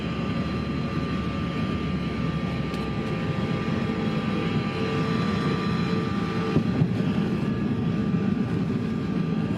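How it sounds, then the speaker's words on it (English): An airplane lands on a runway, its engine roar and rushing wind loud and steady inside the cabin, with a faint thump partway through. "can the pilot make a perfect three-point landing?"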